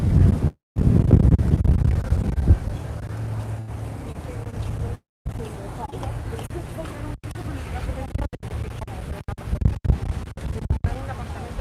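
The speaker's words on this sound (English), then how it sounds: "I'm going round a very windy corner here." Heavy wind buffets the microphone in low rumbling gusts on a busy night-time walkway in Magaluf, Mallorca, with brief dropouts, while a person talks and distant crowd chatter drifts underneath.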